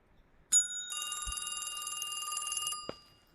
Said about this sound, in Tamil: நம்மளுக்கு ஃபோன் வருது.